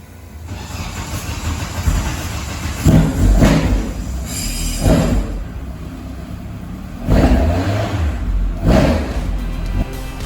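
A Vauxhall red top engine in a race car fires up and revs in several loud bursts, rising and falling over a rough idle between blips, heard close with no talking.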